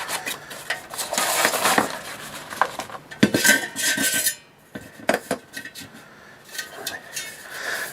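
Metal camp stove parts clatter and scrape as they are handled nearby, with irregular clinks and rattles like pots and cutlery knocking together, a brief pause midway, then more light clanking.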